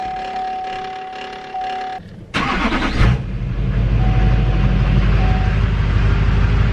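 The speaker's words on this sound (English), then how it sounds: "turn the truck on and let it run" A diesel truck engine, a D-Max, starts and settles into a steady running rumble that grows louder, following a moment of electronic chiming and a brief burst of noise.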